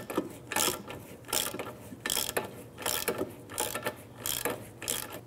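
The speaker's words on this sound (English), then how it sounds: "So go ahead and get your nut started on the ball joint here. I'm going to go ahead and snug this down." Ratchet clicking in repeated bursts as a ball joint nut is snugged down on the lower control arm of a 2001-2007 Ford Escape, close and crisp, about seven quick strokes with short pauses between them.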